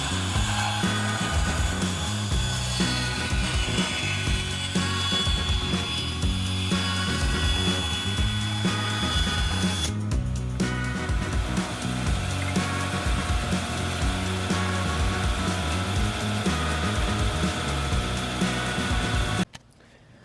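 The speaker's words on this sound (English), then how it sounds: "the reason I made that last cut you saw on the bandsaw, I made it on the bandsaw instead of the table saw" Bandsaw cutting through a wooden block, a continuous buzzing rasp of blade on wood at close range, steady for most of the time before stopping abruptly near the end.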